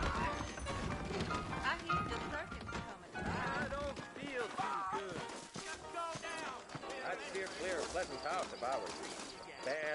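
Horses clip-clop in the Red Dead Redemption video game, hooves striking repeatedly in quick uneven rhythm, with occasional whinnies and faint talk mixed among the hoofbeats.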